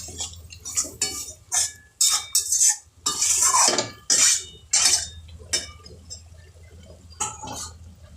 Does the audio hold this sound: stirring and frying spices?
yes